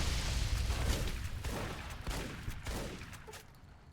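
A shotgun fires in Fallout New Vegas, loud and close, with several heavy blasts in quick succession over a dense gunfight rumble that fades toward the end.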